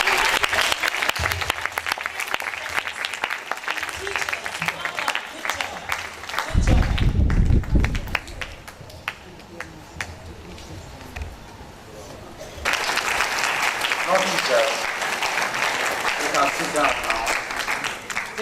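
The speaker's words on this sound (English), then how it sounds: "So I'd like you all to clap for yourself" Applause from a crowd at the official launch of the Nigeria Space Ambassador Scheme, with the children clapping for themselves. Steady, dense clapping fills the clip, with a louder low-pitched burst near the middle and voices mixed in.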